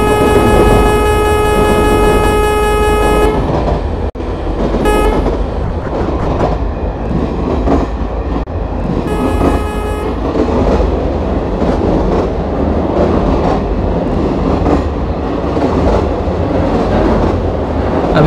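Indian express passenger train running at about 110 km/h at night in Indian Train Simulator, with a steady loud rumble and rhythmic wheel clatter throughout and long horn blasts near the start and briefly again midway.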